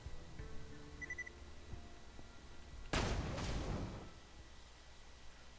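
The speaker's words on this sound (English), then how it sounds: "I'm going to shoot him just flat in the head there" A single heavy sniper rifle shot in the game Borderlands 2, one loud crack with a rumbling tail lasting about a second, standing out against quiet ambient game sound.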